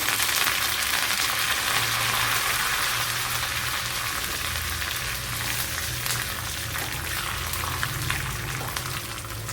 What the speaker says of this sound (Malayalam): ഇനി അതുപോലെ കറി ലീവ്സ് കൂടെ ഇട്ട് കൊടുക്കാം